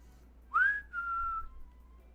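A single human whistle imitating an attention-getting call, rising sharply then holding a steady tone that fades out, clear and alone.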